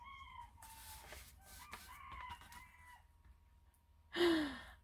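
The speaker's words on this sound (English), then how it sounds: "my roosters are talking like crazy right now" A rooster crows once, loud and close, with a rising harsh call near the end; fainter crowing and clucking from other chickens runs through the earlier part over steady low background noise.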